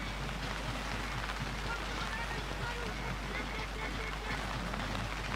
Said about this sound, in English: It's bucketing down now with Elsies Rafiq line out feed.